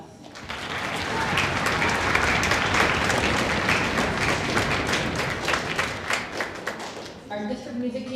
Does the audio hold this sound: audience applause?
yes